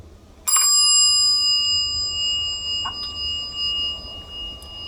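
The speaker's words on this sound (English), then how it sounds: "You got a mechanical bell chime." A mechanical elevator call-station bell in an elevator collection display gives one sharp, loud chime with a long ringing decay, then a fainter second strike about two seconds later.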